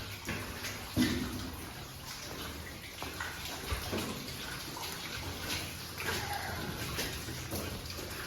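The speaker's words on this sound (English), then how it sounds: "There's a bunch of water pouring in this area." Water pours and splashes steadily inside an abandoned mine shaft in Alaska, a continuous rushing wash echoing under a cathedral-like rock ceiling, with a few louder splashes and no talking.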